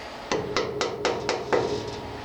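Six sharp taps of a small hammer driving a finishing nail into a wooden pen blank to make a pilot hole, evenly spaced, close and fairly loud against a quiet room.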